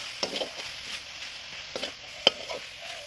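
Chopped greens being stirred and fried in a pot on a wood-fired clay stove, with soft sizzling and a few sharp scrapes and clinks of a utensil, faint and close.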